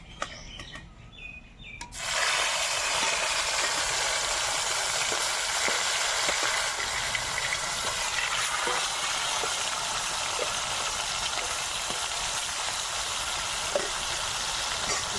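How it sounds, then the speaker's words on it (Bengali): Mrigel fish frying in hot oil for a thin curry with eggplant and potato, a steady loud broadband sizzle that bursts in after a quiet start and continues unbroken with faint crackles. "তেল খুব ভালো করে গরম হয়ে গেছে, আর মাছ ভেজে নেব।"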